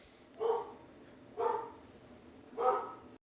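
A dog barks three times at steady intervals, each bark loud and close with short silences between, set off by the mailman arriving.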